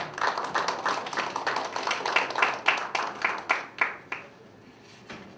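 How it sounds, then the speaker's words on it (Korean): Applause at a gender-innovation teaching workshop welcoming a professor to the podium. A crowd claps steadily at first, then thins to a few scattered, distinct claps that fade out near the end. "박수로 환영해 주시면 감사하겠습니다"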